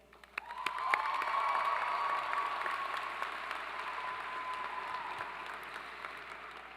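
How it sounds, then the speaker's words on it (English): Applause swells quickly and continues steadily from a large audience at a high school graduation ceremony, with a few whoops rising above it, heard at a slight distance. "please give a huge cheer to our keynote speaker, Miss Norton"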